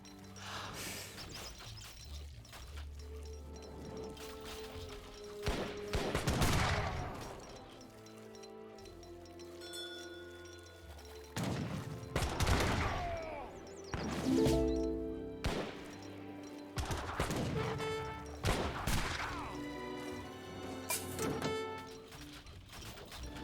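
Musket volleys ring out in an Age of Empires 3 battle as repeated bursts of crackling shots and impacts, loud and dense, layered over the game's background sounds.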